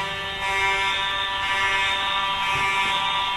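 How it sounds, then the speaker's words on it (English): A household fire alarm blares indoors with a steady, loud electronic tone of stacked pitches, holding continuously for several seconds with no speech. "We've got a fire alarm again."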